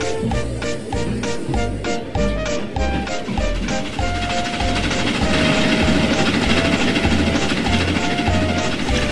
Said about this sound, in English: The train got off to a great start.